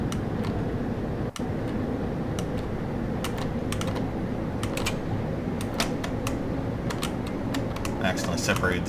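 Keys on a computer keyboard tapped in quick irregular bursts while steering a rocket in Kerbal Space Program, close and clear over a steady background hum, with a sharp click early on.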